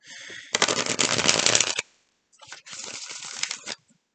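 Tarot cards are shuffled in two quick riffling bursts, crisp and close, separated by a short pause of near silence.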